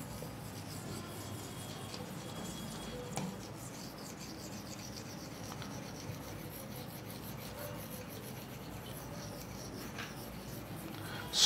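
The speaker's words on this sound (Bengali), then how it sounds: "সমষ্টিটা বের করার জন্য আমি এখানে একটু এগুলো মুছে দিচ্ছি।" Steady, continuous rubbing of an eraser wiping writing off a board during a maths problem-solving class, running evenly throughout at a quiet, close level with no talk.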